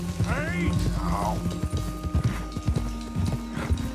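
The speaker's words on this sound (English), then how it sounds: "Dude, he's a nice black stallion." Hooves of a black stallion clip-clopping in the video game Red Dead Redemption 2, in a quick steady rhythm close by. A short neigh rises early on, and someone talks over the hoofbeats.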